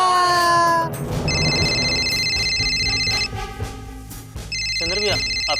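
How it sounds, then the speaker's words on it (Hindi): A telephone rings in a Bhojpuri TV serial scene, sounding two bright bursts of electronic bell tones after music fades out, with voices talking underneath. "फोन"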